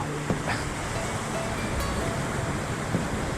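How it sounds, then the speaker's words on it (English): Large ocean waves surge and wash onto a beach at Grand Turk on the rougher side of the island, a soft continuous roar of surf in the distance with faint wind. "enjoy the view and the massive waves that are probably over here"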